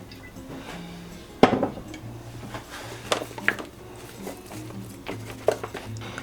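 Seafood goes into a pan with olive oil, giving sharp clanks and clinks of metal cookware and utensils at irregular intervals over a low steady background hum.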